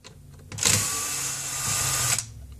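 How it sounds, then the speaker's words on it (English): Small motorised screwdriver removing screws from the LCD hinge of a Panasonic CF-Y5 laptop: one steady high-pitched whirring run of about a second and a half, close and alone, with no talk. "And then we just have two more screws to remove, one on each side of the hinge."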